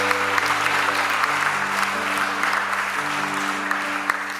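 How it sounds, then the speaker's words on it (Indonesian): Audience applauding newlyweds at a church wedding blessing, a steady wash of many hands clapping throughout, with a sustained musical tone underneath. "Mari kita tepuk tangan buat keluarga baru yang diberkati Tuhan"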